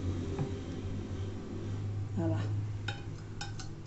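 Plates and cutlery clink lightly in a home kitchen while pasta carbonara is served out, a few scattered metallic taps and chinks over a steady low hum.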